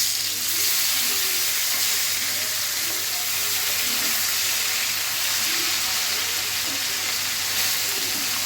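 Small puti fish fry in hot oil, giving a steady, even sizzle and crackle that continues unbroken throughout at moderate loudness, with no voices.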